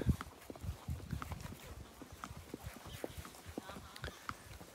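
Horse hooves clip-clop in a steady walking rhythm on a hard surface during a ride in Somoto Canyon, Nicaragua, fairly faint, with low background rumble and no talking.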